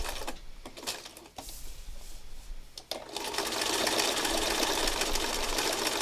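A sewing machine stitches fabric scraps, with a few short bursts of whirring that then settle into a fast, continuous, even mechanical hum close by.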